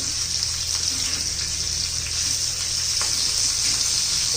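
Garlic and green chillies fry in a pan for mirchi kharda, a loud, steady, close sizzle hissing without a break and with no talk.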